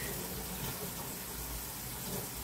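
A weak trickle of water from a tap makes a continuous, even, soft hiss that stays faint throughout, with no voices.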